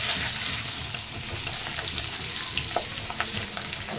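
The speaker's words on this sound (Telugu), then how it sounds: "ఆ బట్టరు వేసుకుని ఆకు చెక్క లవంగం ఏలక వేసుకుని బాగా తిప్పేసి వెల్లుల్లిపాయలు వేసుకోండి వెల్లుల్లిపాయలు తిప్పేసేయండి" Garlic fries in butter with bay leaf, cinnamon, cloves and cardamom, a loud dense sizzle close up with scattered stirring clicks throughout.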